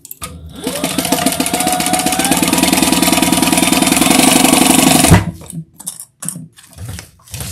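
Sewing machine stitching a bottom seam closed, a loud close continuous mechanical whir running for about five seconds before stopping, followed by a few soft handling sounds.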